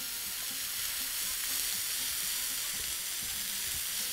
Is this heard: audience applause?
no